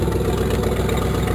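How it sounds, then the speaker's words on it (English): An old Oldsmobile car engine idles with a loud, leaky exhaust, a low steady rumbling drone heard close and alone. "the exhaust is loud, but it starts on a dime"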